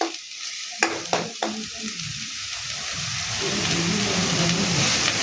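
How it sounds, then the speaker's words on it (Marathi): Masala for a drumstick curry fries steadily in hot oil, a dense, even sizzle with a few sharp utensil clinks near the start and the crackle growing slightly louder toward the end. "छान तेल सुटत आहे बघा मसाल्यांचं. छान तळून घेतला."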